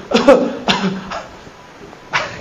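A person gives several harsh coughs: a quick double burst, then two more spaced coughs, close and fairly loud with no talk over them.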